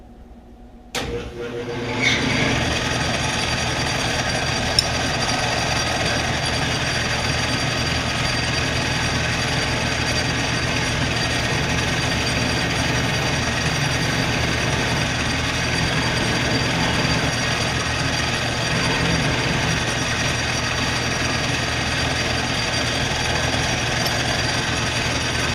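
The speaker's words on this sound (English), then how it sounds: "I'm going to go ahead and center drill, tap, and drill this to depth" A Bridgeport knee milling machine starts up and settles into a steady, loud whirring drone with a metallic hum while drilling metal, running continuously without pause.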